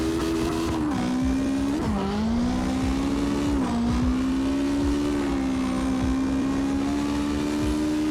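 Toyota AE86 Hachi-go in CarX Drift Racing drifting with a steady engine drone that rises and dips as it revs, tires squealing faintly along the slide, loud and continuous throughout.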